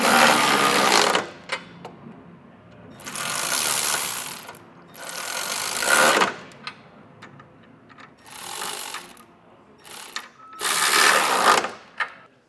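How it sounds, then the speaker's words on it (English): Ratchet with a 19mm socket snugging up trailer hitch hardware on a 2024 Subaru Forester, heard as several loud bursts of rapid clicking separated by short pauses. "Now we're going to take a 19mm socket and snug up our hardware."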